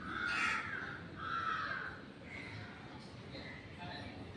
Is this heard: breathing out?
no